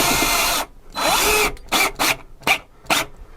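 Power drill driving wall anchors into drywall, with a long whirring burst followed by several short spurts, loud and close with no talk.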